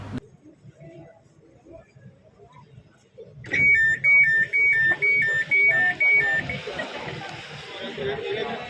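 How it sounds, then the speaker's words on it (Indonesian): On a new KRL commuter train built in China, a loud electronic door warning buzzer sounds in a fast, steady on-off pattern of about ten beeps, over the murmur of passengers talking in the carriage. "Di situ ada kayak buzzer atau alarm peringatan di area pintu."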